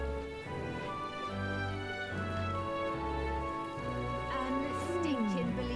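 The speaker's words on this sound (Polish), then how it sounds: "This is a most foul downpour." A rain downpour patters steadily in the video game Metaphor: ReFantazio, sitting beneath melodic background music, with a voice speaking over it toward the end.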